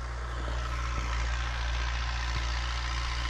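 An Ursus or Zetor tractor engine drones steadily in a field during rapeseed sowing, a close, constant low hum with a faint tick now and then.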